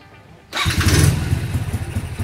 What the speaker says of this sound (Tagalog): So, pag pinaandar ko yung motor